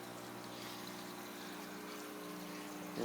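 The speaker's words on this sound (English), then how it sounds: "it could be a top fed drip system, as you can see here. It's nice and dripping." A top-fed drip system in a Mojave Desert aquaponics greenhouse gives a steady, close trickle and splash of running water over a constant low pump hum, with no pause throughout.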